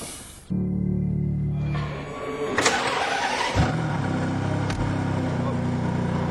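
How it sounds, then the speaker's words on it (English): A Ferrari Enzo's 6-litre V12 cranks and fires after a sharp click, then settles into a loud, steady, rumbling idle heard close up, with a brief blip of revs partway through. "Big start button to fire up that 6-litre V12"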